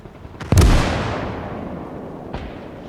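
A mortar shell from a World War II strategy game bursting on a mine: a sharp, loud explosion with a long rumbling decay, a quieter thump a moment earlier and a smaller distant pop near the end, no talking.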